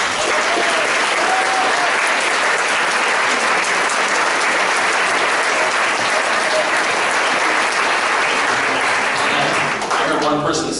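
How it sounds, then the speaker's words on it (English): Dense, loud audience applause for a panel at a Q&A session, continuous clapping from a large crowd lasting about ten seconds before tapering off at the end. "If we can give them a round of applause"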